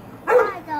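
A dog lets out one short, sharp bark up close, followed by a faint whine-like tail in a quiet indoor space.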